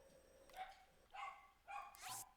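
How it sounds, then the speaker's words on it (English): Dogs barking outside, three distant sharp bark bursts spaced about half a second apart, faint and muffled. "you hear my dogs go crazy out there?"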